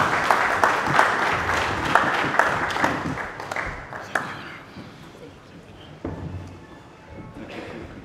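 An audience at a stakeholders meeting applauds after a minister's remarks, with dense clapping that fades after a few seconds into room noise and brief speech.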